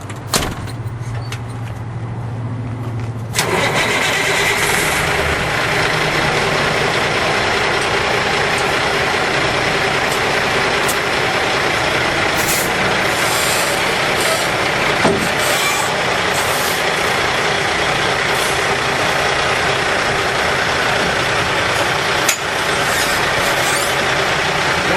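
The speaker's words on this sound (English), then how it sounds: "Now he's going to put it into first gear and give a tug and try and pull the truck away from the trailer." Truck engine revving in first gear as the tractor tugs against a coupled trailer during a coupling test, a steady loud rumbling drone that starts after a few seconds and runs on continuously with occasional knocks.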